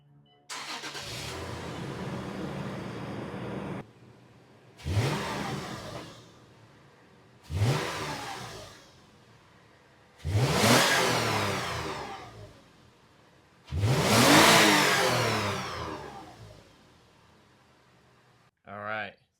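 A truck with its stock factory exhaust revs in five separate bursts, each rising and falling, with a steady engine tone before the first and a short blip at the end. It sounds close and loud.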